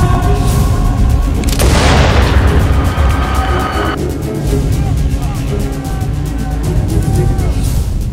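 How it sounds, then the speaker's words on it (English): A gunshot in a Peaky Blinders drama scene: a single loud, sharp blast that rings off and decays over a couple of seconds, set against a continuous dense background of score and ambience. "Vicente hired someone to shoot Tommy Shelby's wife in the chest and thus killing her"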